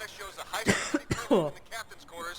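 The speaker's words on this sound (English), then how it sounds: "Let me cough real quick." A few short, rough coughs and throat clearing up close, mixed with bits of speech.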